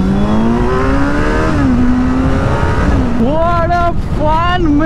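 Motorbike accelerating hard on a highway, the engine whine climbing in pitch, dropping at a gear change and rising again, loud and close over rushing wind noise.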